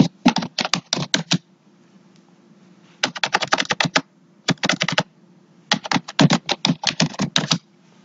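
Fast typing on a computer keyboard in three or four quick bursts of clicky keystrokes separated by short pauses, close and crisp over a faint low hum, with no talk.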